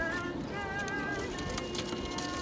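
Pigeons in a loft coo softly and steadily, a low murmuring flock sound that continues throughout with faint background rustle.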